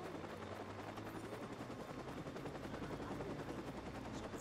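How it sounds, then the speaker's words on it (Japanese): A helicopter's rotor thumps in a continuous rhythmic chop, fairly close, circling in the video game Watch Dogs, with faint game-like bursts of gunfire mixed in. "ヘリがあまりにも主任の上を旋回しすぎや"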